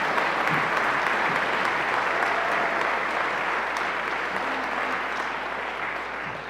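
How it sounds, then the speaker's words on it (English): Audience applauding for harp students at a school harp festival concert, a dense, steady wash of clapping that holds at full strength throughout and tapers only slightly near the end. "Please give them one more round of applause."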